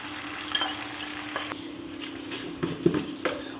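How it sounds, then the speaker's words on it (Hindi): Beaten egg with salt hitting hot oil in a home kitchen pan, a steady close sizzle with a few light utensil clinks and scrapes breaking through. "और गरम तेल में डाल दूंगी"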